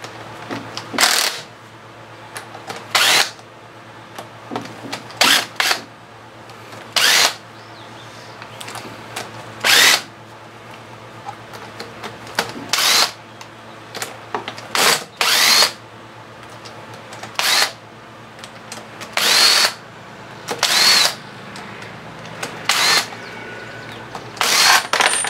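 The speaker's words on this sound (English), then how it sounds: "Get all the head bolts" A power tool loosens the head bolts on a 1994 Johnson 15 HP outboard in short, loud, repeated whirring bursts separated by pauses, with small metallic clinks between them.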